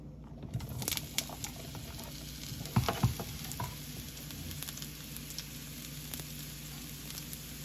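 Wild mushrooms sizzling in a hot pan, a soft close crackle with a few scraping and clattering stirs, fairly quiet and free of voices.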